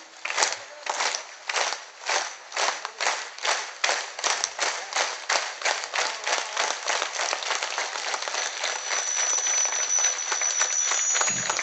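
Rhythmic unison clapping from a kirtan audience honouring Vitthal, steady loud claps about twice per second, then merging into a denser continuous wash of applause near the end.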